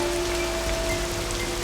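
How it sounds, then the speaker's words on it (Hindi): Rain falls steadily outside a house, a dense, even patter on surfaces with a constant low tonal hum underneath, moderately loud and continuous, with no voices. "बारिश हो रही है, अंदर आओ तुम।"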